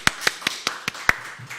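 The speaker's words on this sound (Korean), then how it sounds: "남자들만 힘차게 박수." Men in a church congregation at an Easter Sunday service clap in a short run of about six crisp, evenly paced hand claps, with no voices over them.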